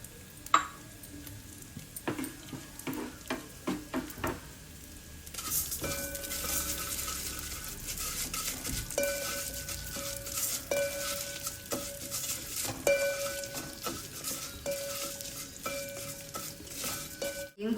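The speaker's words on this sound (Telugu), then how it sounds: "నెయ్యి వేసుకుని నెయ్యిలో పెసరపప్పు దోరగా వేయించుకోవాలి" Moong dal frying in ghee in a pan for sweet pongal, with a soft steady sizzle and repeated stirring and scraping of a utensil against the pan, no talk.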